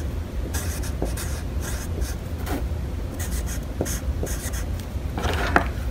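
Pen or marker writing out fractions on paper or a board, a series of short scratchy strokes with brief pauses between them, close and fairly quiet, with no talking.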